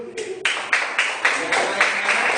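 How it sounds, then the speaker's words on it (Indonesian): A class of students in an Indonesian school claps together in a steady, rhythmic beat, about eight sharp, close claps following a short opening murmur. "Kasih tepuk tangan dulu."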